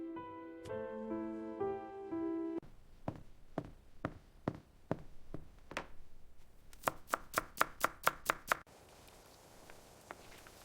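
A knife chops food on a board during cooking, first in slow evenly spaced strokes and then in a quick burst of sharp, close taps, with no talking.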